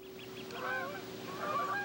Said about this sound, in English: Canada geese are magnificent birds